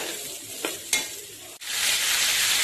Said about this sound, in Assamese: এতিয়া লেবৰা ভাজি বনাই আছো খিচিৰিৰ লগত